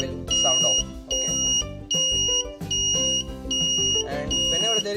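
An Arduino-driven PIR motion security alarm sounds in repeated bursts of high, steady electronic tone, pulsing on and off about once a second, loud and up close over a dense background of music-like tones.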